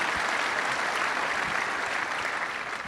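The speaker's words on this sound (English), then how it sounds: "let's give a round of applause for that" Audience at a Little Rock Touchdown Club luncheon applauding a speech, a steady, dense wash of clapping that fills the room from start to finish without voices.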